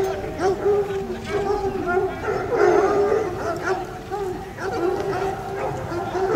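Hunting hounds under a huntsman's orders howl, yip and bark together in a pack, a continuous excited chorus close by, with people talking over them.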